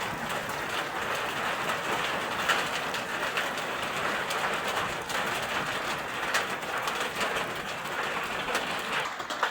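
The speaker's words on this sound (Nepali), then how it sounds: "असिना निकै ठुल्ठुला परेका छन्।" Large hailstones pelting down in a windy hailstorm make a dense, continuous rattling clatter that stays loud and steady throughout, with no voices.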